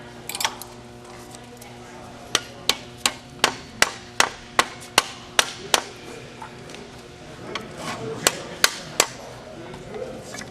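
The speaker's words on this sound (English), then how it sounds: "Sometimes I have to use a hammer to help force it around." Sharp metallic hammer strikes ring out as metal is shaped by hand, a steady series of about a dozen blows, then a few more after a pause, close by over low background noise.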